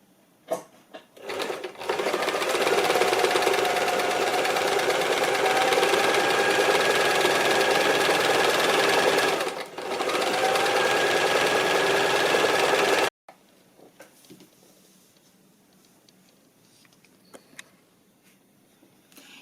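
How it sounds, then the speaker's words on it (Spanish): A domestic sewing machine runs steadily, stitching fabric for a child's scarf, loud and close for about eleven seconds with a brief pause midway, then stops, leaving faint handling noises and quiet room sounds. "nos disponemos a pasar a máquina el pespunte que hará el cosido y vuelto de toda la pieza"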